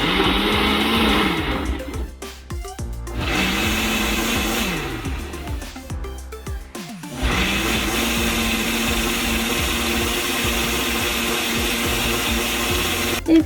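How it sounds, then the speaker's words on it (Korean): A kitchen blender grinds apples with added water, its motor whirring loudly with pitch shifts and brief stops and restarts, then running steadily. "일 분 정도 이렇게 믹서기를 간 다음에 내용물을 확인해 보겠습니다"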